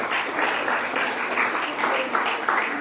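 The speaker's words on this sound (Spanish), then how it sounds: "Denle un aplauso a Jesús." A church congregation claps together in a sustained burst of applause, dense and fairly loud, with faint voices mixed in.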